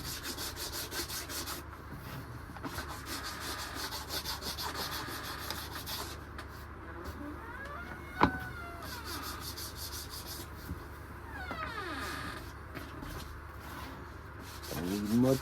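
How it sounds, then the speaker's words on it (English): Sandpaper rubs over the edges of a handmade leather Kindle sleeve in a workshop, a steady close scratchy rasp with brief pauses and one sharp tap midway, no talking. "Let's touch all of that just with a little bit of sandpaper, just to clean it up."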